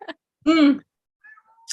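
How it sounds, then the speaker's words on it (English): A house cat called Rocket gives one clear, drawn-out meow close by, framed by a couple of tiny chirps and faint squeaks before and after. "There's a cat that really wants that drink right now. I can hear it."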